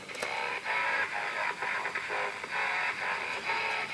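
Quiet music plays from an audion radio receiver, a simple regenerative tube set, continuous and faint, with a thin, narrow-band sound and steady crackle, no talking over it.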